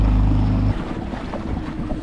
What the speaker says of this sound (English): the engine is now in neutral and we're just going to slow down a little bit